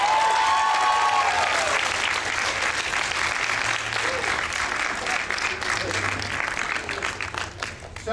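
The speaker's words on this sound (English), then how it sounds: "Give him a round of applause." A convention audience at an anime convention acting lesson applauds in a dense, steady burst that lasts several seconds, then tapers off at the end. A few voices cheer faintly within the clapping.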